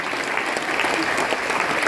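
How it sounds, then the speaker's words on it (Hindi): Audience applause breaks out at a Hindi comedy poetry gathering, a dense burst of many hands clapping at a fairly close, steady level throughout the short moment. "दोनों हाथ उठा के एक बार ताली बजाओ"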